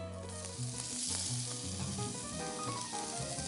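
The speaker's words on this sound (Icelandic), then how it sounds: "Og næsta sem ég geri, það er að steikja beikoni hérna á pönnunni." Bacon frying in a pan gives a steady, dense sizzle and crackle that runs the whole time at close range, with a few brief stirring clatters.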